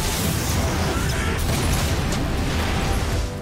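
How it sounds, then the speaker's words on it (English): A violent oxygen tank explosion in an action film, set off in a hospital, roars as a loud, dense blast that sustains its full force for about three seconds before tapering off. "A spark fell on the oxygen tank, causing a violent explosion."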